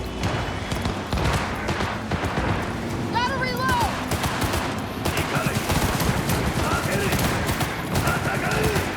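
Rapid gunfire and grenade blasts fill a street in the Cyberpunk video game, a dense, continuous barrage of shots heard close and loud throughout, with a brief cluster of bright chirping tones near the middle.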